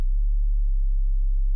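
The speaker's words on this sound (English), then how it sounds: "Okay, we've got this sine wave here" Steady low sine wave tone from the Brute LFO iPhone app, used as a modulation source for analog synths, holding one smooth, unchanging pitch alone for about a second and a half.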